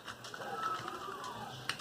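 Computer keyboard typing during gameplay on a Pentium 4 desktop running Linux, a quiet, steady patter of light key clicks with one sharper tap near the end, faint game sound underneath.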